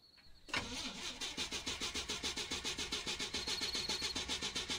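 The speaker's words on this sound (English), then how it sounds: "Turn E to start the engine." A car engine in the psychological horror game CheroPhobia cranks repeatedly without starting, out of gas: a fast, rhythmic starter-motor churn begins abruptly after a faint tone and pulses steadily and loudly to the end.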